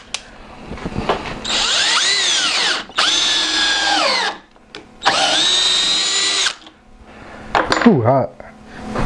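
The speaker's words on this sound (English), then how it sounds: "Let's see how far we can drive it in there on drill mode." A Bauer 20-volt cordless hammer drill in drill mode drives a screw in three long whining bursts, its motor pitch dropping and sagging under load between short pauses, followed by a brief squeak at the end.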